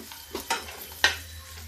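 Mustard seeds crackling in hot oil on a low gas flame while tempering spices for South Indian sambar: a few sharp pops and spits over a soft, steady sizzle, close and fairly quiet, with no talking.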